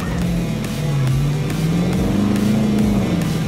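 A Dodge Challenger muscle car with a V8 engine making 375 horsepower accelerates hard from a launch, its loud, close engine droning with a rising and dipping pitch as it pulls through the run.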